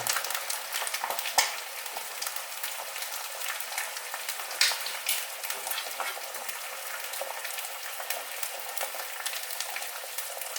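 Eggs frying in a stainless steel pan give a steady, bright crackling sizzle that runs without a break, with a few sharper pops and small spatters rising above it. No one speaks.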